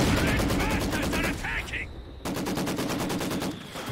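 Machine gun fire in the World War II strategy game Company of Heroes 2, rapid sustained bursts with a brief break, loud and dense, layered with other battle noise.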